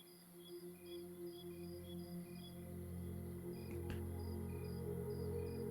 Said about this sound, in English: Along with the sound of crickets.